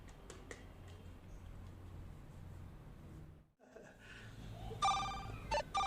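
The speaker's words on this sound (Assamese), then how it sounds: "কাৰ ফোন আহিলে" A phone rings near the end, a few bright electronic tones after a brief lull, with room noise and faint movement before it.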